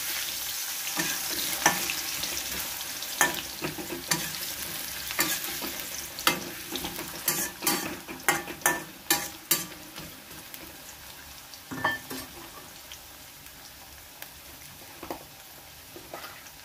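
Potato halves fry with dried red chilies in a pan while banana flower is cooked Bengali style. A steady sizzle runs throughout, broken by frequent scraping and stirring clicks of a utensil, close and moderately loud.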